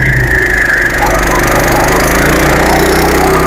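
A stubble mower at work in a field gives a steady, loud mechanical drone with dense broadband noise, continuous and unbroken, heard close up with no talk over it.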